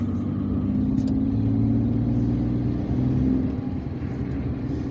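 A car drives along a road in Algiers with a steady, close engine rumble and road noise that swells slightly and eases near the end, with no talking.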